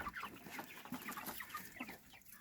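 Cornish Cross meat chickens clucking inside their coop pen, a busy overlapping chorus of short, soft clucks and chirps from several birds close by, quiet overall and without any talking.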